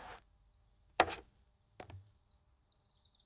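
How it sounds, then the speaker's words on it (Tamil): Two sharp knife chops cut through chicken pieces on a board while preparing a village-style chicken biryani, with faint birdsong outdoors afterward. "இப்போ சிக்கனை நல்லா சுத்தம் பண்ணி நடுத்தர துண்டுகளாக வெட்டிக்கலாம்."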